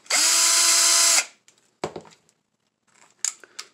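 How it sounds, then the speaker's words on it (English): A power drill spins up and runs steadily for about a second while backing out a retention screw from a holster, followed by scattered faint handling clicks and small plastic rattles. "We'll first start out with removing the retention screw from the holster."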